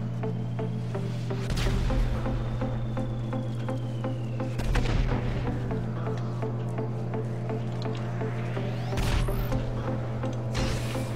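Gunfire in the online game GTA 5 crackles in sharp bursts over a constant low engine-like drone, with a few heavy booming shots standing out amid steady background game noise.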